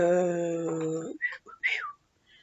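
A steady pitched whistle holds for about a second, then short sliding whistled notes follow before it fades to quiet.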